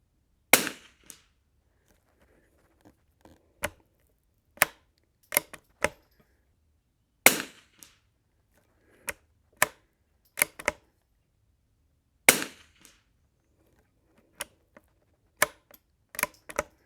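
Sharp, dry cracks from a Savage Anschutz 54 Sporter rifle shooting at 100 yards, heard as irregular shots spaced a few seconds apart, some with quieter clicks and metallic handling between them, fairly close and without talk.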